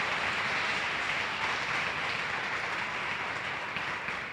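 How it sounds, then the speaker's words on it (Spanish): Church congregation applauding loudly after being urged on, a continuous wash of many hands clapping with a steady, even roar heard from within the room and no voices on top. "Dale un aplauso bien fuerte al Señor. Más fuerte ese aplauso."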